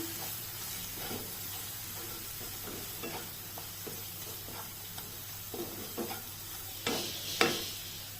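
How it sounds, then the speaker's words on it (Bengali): Homemade ground masala spices sauté in a little oil for mushroom masala, a soft, continuous sizzle up close with occasional stirring scrapes and a couple of louder clinks near the end, no one speaking. "হালকা একটু তেলটার মধ্যে মশলাটা কষিয়ে"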